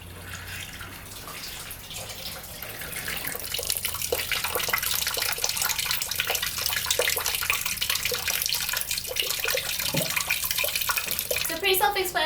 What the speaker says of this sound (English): So I'm just going to keep pouring it through and circulating it until the water comes out clean in the pan.